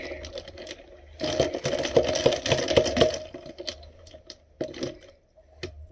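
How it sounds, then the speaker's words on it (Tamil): A Pimm's No. 1 cocktail topped with Sprite is stirred in a glass, giving a dense run of light clinking and swirling taps, with a few isolated clinks before and after. "இதை நல்லா மிக்ஸ் பண்ணணும்"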